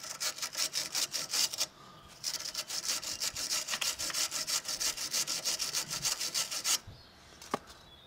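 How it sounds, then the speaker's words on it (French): Angle grinder working over a van starter motor, likely from a Renault Master 2, rasping in fast, steady strokes, then a short pause and another long grinding run with a sharp click near the end. "Je crois que je vais prendre la meuleuse. La meuleuse, elle frotte vite."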